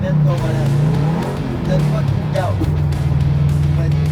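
A rally car engine drones at steady revs, then shifts into second gear and climbs as the car pushes harder and begins to slide, with tire noise; someone speaks over it.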